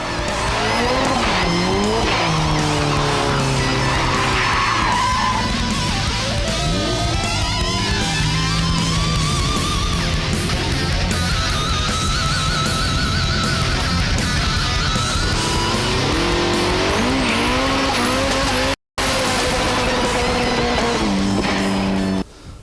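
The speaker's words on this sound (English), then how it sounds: "I've put a 2-litre Mazda motor in with a turbo" A turbocharged 2-litre Mazda-engined street racing car skids and drifts close by, its engine roaring continuously while the tires squeal throughout.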